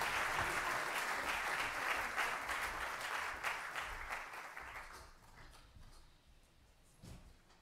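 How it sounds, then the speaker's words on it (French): Audience applause at a public talk about a polar station under construction in Cherbourg, a steady crowd of clapping that runs for about five seconds and then fades away, leaving quiet room noise with a stray sound near the end. "Vous pouvez les applaudir si vous avez envie"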